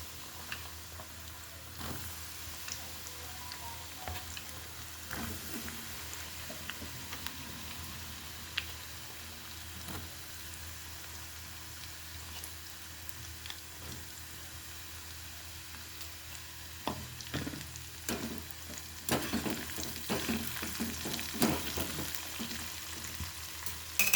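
Peanuts frying in hot oil in a kadai for palli pakodi, a soft, steady sizzle with scattered small pops that grows louder and busier toward the end.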